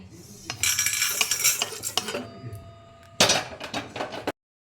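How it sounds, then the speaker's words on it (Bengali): Dry-roasted whole spices tipped from a metal pan into a bowl, a busy run of clattering, scraping and tinkling as seeds and utensils knock against the vessels, with a second loud burst of rattling near the end. "এবার আমি এটাকে ঢেলে নিচ্ছি একটা পাত্রে।"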